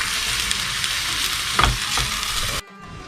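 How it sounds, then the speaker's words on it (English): Bulgur is stirred in hot oil in a pan for a traditional Turkish dish, giving a loud, close, continuous sizzle with spoon scrapes before it cuts off abruptly. "We mix it together with oil, but not bring to brown."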